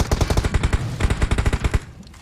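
Rapid automatic gunfire from a video game battle, loud and close, firing in quick bursts for nearly two seconds before cutting off into near silence.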